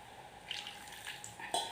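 Water poured from a tap into murukku dough in a kitchen bowl, a soft steady trickle with faint splashes, close and quiet with no talking.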